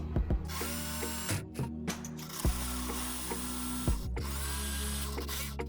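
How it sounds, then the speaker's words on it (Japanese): A power drill bores holes through metal angle brackets clamped in a vise, the bit grinding steadily with whining spin-ups and several brief stops and restarts; no voices. "固定する位置にマジックで印をつけ穴を開けていきます。"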